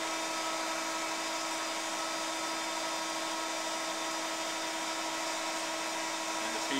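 GMN MPS-R600 24-inch vertical spindle rotary surface grinder running an auto cycle, a steady high-pitched whine with constant tonal hum, even and unbroken throughout.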